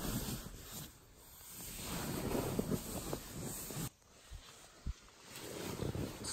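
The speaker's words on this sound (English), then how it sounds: "It's too rainy and windy out there to" Gusty wind buffeting a backcountry tent pitched on a slanted hillside during rain, loud rushing surges with a couple of sharp flaps or knocks, close to the microphone.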